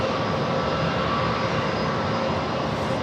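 An American Airlines A321 jet at San Diego airport gives off a steady, loud roaring engine rumble that holds constant with no talking.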